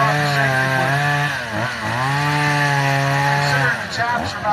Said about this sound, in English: going to be firing up his old chainsaws back here, too